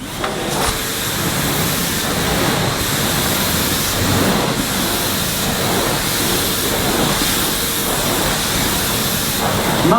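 A Numatic Henry Next HVN204 vacuum cleaner, its suction relief valve open at minimum, is pushed across plush pile carpet, giving a loud, steady motor roar with airy hiss and faint rhythmic swells from the strokes.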